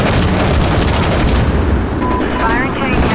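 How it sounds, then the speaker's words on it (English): Rockets launch amid heavy battle noise in the video game Insurgency Sandstorm, a dense, loud, continuous roar of blasts and gunfire that fills the whole stretch, with a faint voice underneath. "Rockets going out."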